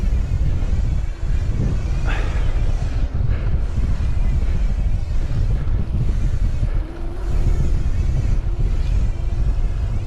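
Strong wind roars and buffets the microphone steadily throughout, a constant loud rush while riding a wheelie on the Col de Mille mountain road near Verbier.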